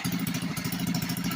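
Phatmoto 79cc engine fitted with a loud JMCHStore header pipe, running with a steady, close, rapid throbbing exhaust putter and mechanical clatter, no voices.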